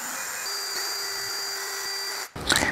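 A power drill whirs steadily at a constant pitch while assembling a Volkswagen 2.0 TDI engine, then cuts off abruptly, followed by a brief rattling clatter.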